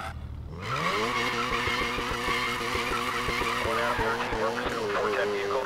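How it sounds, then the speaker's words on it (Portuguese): Mazda RX-7 with a rotary engine in the Need for Speed Payback racing game, droning loud and steady with a stepping rev pitch and repeated gear-like pulses, mixed with skidding and tire squeal. "Olha o barulhão do RX-7, velho."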